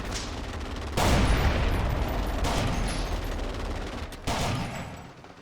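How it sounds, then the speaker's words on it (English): Light machine gun in the game Forgotten Hope 2 fired in short controlled bursts, loud and close, with sharp onsets near one, two and a half and four and a quarter seconds over continuous dense crackling rattle. "Best way to fire the LMG is in short bursts, because in that way it's extremely accurate when deployed"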